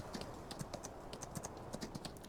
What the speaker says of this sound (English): You can go into Farming Simulator and ride a horse through a countryside.